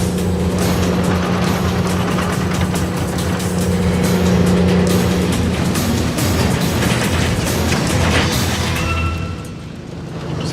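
Truck engine on a damp, cut-up outback road, a loud sustained drone that rises and holds under full throttle, with rumbling and knocking over the rough track, then eases near the end.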